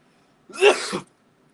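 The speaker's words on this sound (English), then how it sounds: "Come on, sneezes!" A single short, sharp sneeze, close and fairly loud, bursting out against near silence.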